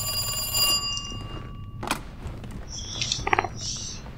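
A telephone rings in the Resident Evil 2 Remake video game, a bright electronic trill heard in short bursts over a low background hum.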